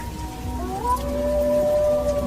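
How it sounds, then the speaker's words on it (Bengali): A jackal's howl rises through a night-time horror story scene, a wavering tonal wail sliding up and holding over a low rumbling background of wind or rain, moderately loud and without speech. "পিছনে শিয়ালের ডাক"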